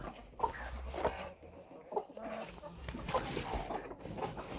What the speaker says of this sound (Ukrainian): Все, тут сидить курка,